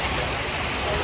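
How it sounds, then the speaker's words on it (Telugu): Light drizzle falls steadily outdoors in a vegetable garden, a soft even hiss of fine drops with no pauses, close and fairly loud. "వర్షం తుంపుర్లు పడుతుంది."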